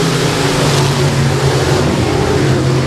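Outlaw race car chassis fitted with an F1 engine, racing at Timberline Speedway; a loud, sustained engine roar at full throttle fills the whole stretch, with steady harmonic drone and no talk.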